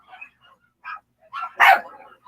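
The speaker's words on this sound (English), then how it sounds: "I can't control what my brother does to get the dogs barking outside" Dogs barking outdoors, heard as a few short bursts at moderate distance, with the loudest bark near the end, mixed with indoor voices.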